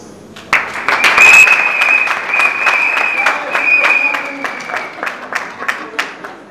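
Audience clapping at a religious wedding builds quickly and continues steadily, with a sustained high musical tone running underneath and scattered sharp claps standing out.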